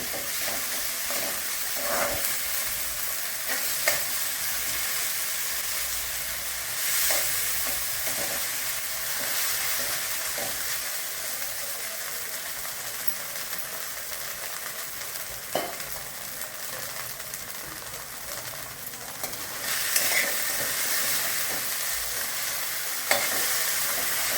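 Sabudana (sago pearls) roast in ghee for kheer, a constant gentle sizzle and hiss with periodic scraping stirs and small clicks, close and steady with no one speaking.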